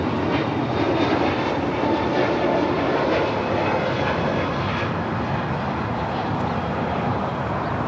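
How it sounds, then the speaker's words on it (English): JetBlue Airbus A321neo jet airliner taking off from LAX, a loud, continuous broadband engine roar filling the whole stretch without a pause. "this is JetBlue 1124 taking off to JFK on an A321neo"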